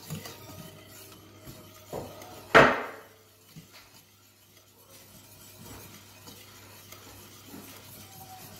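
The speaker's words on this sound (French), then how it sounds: "Je vais rajouter un morceau de cheddar fondu là. Et on va venir tourner." Melted cheddar stirred into a cream sauce in a pan: soft, close scraping strokes over a low sizzle, with one sharper knock against the pan.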